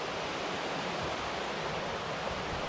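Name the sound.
river water flowing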